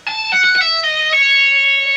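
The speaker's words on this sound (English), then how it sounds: "There I'm just doing pull-offs" A few quick guitar notes descend in a smooth legato run of pull-offs, each tone flowing into the next, then one note rings out clearly on its own.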